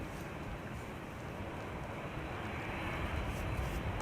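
Transavia airliner departing Amsterdam Schiphol, a faint steady jet rumble that swells slightly toward the end, alone without talk.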